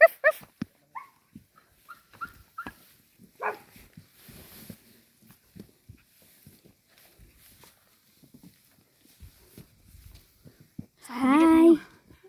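A dog along a trail to Blue Soil gives a short, high, whining whimper near the end, close and fairly loud, after a long stretch of near-silence with faint scattered footsteps and small sounds.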